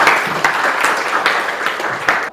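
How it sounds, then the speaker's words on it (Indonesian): A classroom of students applauds together, a dense burst of clapping with sharp accents, steady and fairly loud for about two seconds before stopping abruptly. "Tepuk tangan untuk kesepakatan kita pagi ini"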